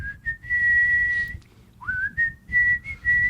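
A person whistles a tune alone, a clear wavering melody with a short pause midway, over a low background hum.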